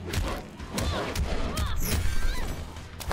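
Rapid gunshots and heavy impact thuds from a Mortal Kombat X tournament fight, dense and continuous with crashing hits layered over game music for the whole stretch.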